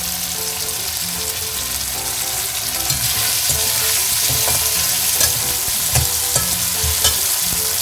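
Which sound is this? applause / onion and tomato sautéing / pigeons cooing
onion and tomato sautéing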